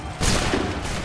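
A musket volley from soldiers in Assassin's Creed 3 erupts as one loud, dense burst of overlapping shots that rings out briefly and then fades.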